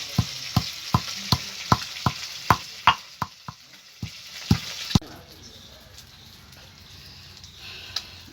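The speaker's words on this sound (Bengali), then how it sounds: "মাছগুলো ভাজা হয়ে গেছে আমি তুলে নিচ্ছি" Bhola fish frying in oil: a run of sharp, regular knocking taps comes first, then a steady, soft sizzle takes over for the rest of the clip, close by and with no talk.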